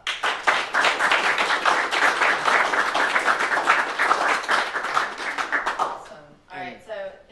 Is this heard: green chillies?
no